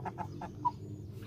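Chickens clucking close by in a few quick soft bursts, with one brief sharper note standing out against a low background hum.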